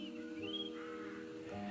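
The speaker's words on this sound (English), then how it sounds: "the crowing of the frightened birds and the wind in the trees" Frightened birds calling, heard as a few drawn-out crow-like caws at moderate distance over a faint, steady background.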